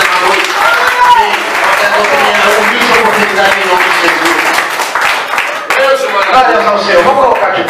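Congregation applauding during an evening church service in Belo Horizonte, sustained dense clapping filling the room while a preacher's voice carries over it.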